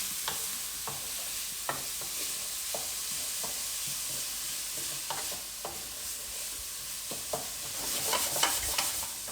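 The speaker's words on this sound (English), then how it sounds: "just crank up the heat for a little bit. A nice loud sizzle." Steady frying sizzle of mushrooms in a hot pan over high heat, with scattered stirring clatters and scrapes throughout, growing a bit louder near the end.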